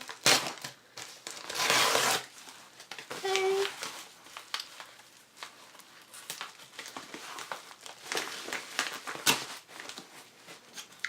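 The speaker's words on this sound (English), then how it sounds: "So I'm going to start with unboxing this bigger one, and there should be 2 books in here." A package of books is torn open, with close crinkling, tearing and crushing of packaging in irregular bursts, louder early on, and a quiet voice briefly heard.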